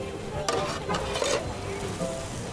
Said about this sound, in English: Hot dogs sizzle on the barbecue